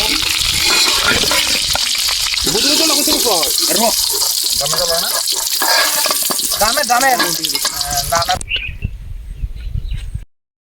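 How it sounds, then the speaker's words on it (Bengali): Potatoes fry until reddish-brown in a wok at an outdoor cookout, making a continuous loud sizzle under nearby talking and faint bird chirps. The sound drops away near the end. "আলু লাল লাল করে ভেজে নিলাম এবার নামিয়ে নেব"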